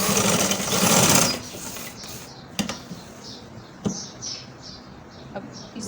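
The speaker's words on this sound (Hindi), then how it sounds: "अब इस सिलाई को भी मैं ऐसे ही नीचे ले जाऊंगी, नीचे तक इसको बंद करेंगे" A sewing machine runs in a fast, loud burst while stitching down the side slit of a kameez, then slows to short separate stitch runs and faint taps near the end.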